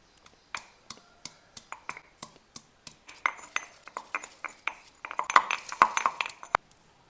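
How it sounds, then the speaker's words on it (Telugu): Ginger and garlic pounded coarsely with a pestle in a home kitchen, a steady series of sharp, close knocks that speeds up and grows busier toward the end, with no talk. "ఈ అల్లము తెల్లగడ్డ కచ్చపిచ్చగా ఒక్కల ముక్కల అలా దంచుకుంటే చాలా"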